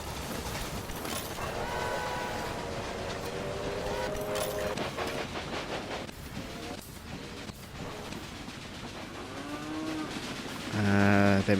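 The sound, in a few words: train running in video game Railway Empire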